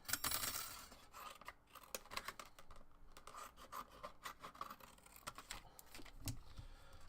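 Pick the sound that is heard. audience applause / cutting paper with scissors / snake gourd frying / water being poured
cutting paper with scissors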